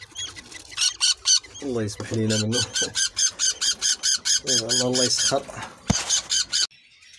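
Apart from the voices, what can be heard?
albino and creamino budgerigar chicks squawking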